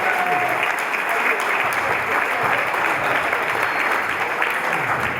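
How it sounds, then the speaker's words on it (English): Steady, dense audience applause at a boxing-related interview event in South Shields, continuous and fairly loud throughout with no break. "round of applause."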